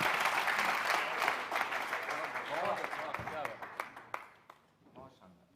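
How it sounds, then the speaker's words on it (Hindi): Audience applause at a poetry gathering (kavi sammelan), loud at first with a voice talking over it, then thinning into scattered claps as it fades out. "एक बार जोरदार तालियां"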